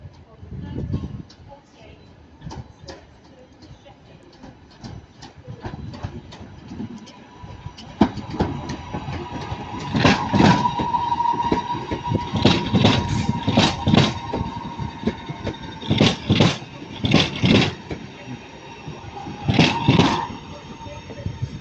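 Class 323 Northern electric train 323236 at Manchester Piccadilly gives a low rumble, then a run of sharp, repeated tonal squeals and clanks as it moves, fairly close, with a voice heard over it.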